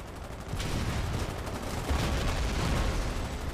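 Rapid, continuous gunfire and heavy shots in the video game Foxhole, including a 94.5mm anti-tank gun firing at enemy tanks; a dense, loud battle din that swells midway and holds steady without a break.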